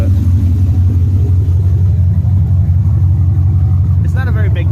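A cammed GMC truck engine with long tube headers idles with a deep, loping rumble, loud and close throughout, with a brief higher whine near the end.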